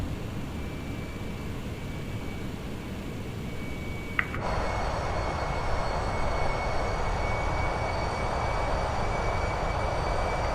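Landing gear lowering on an MD-11F cargo jet in Microsoft Flight Simulator: a soft click is followed by a sudden, steady rise in broadband rushing roar that continues over the cockpit hum.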